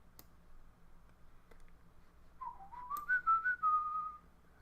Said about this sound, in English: Probably shouldn't whistle to the mic.